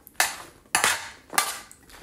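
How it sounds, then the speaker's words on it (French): Vegetables being tossed with olive oil in a dish: three separate scraping, clattering bursts of a utensil against the dish, close and distinct, with short pauses between them. "je mélange bien mes légumes pour que ça s'imprègne un petit peu de l'huile d'olive quand même"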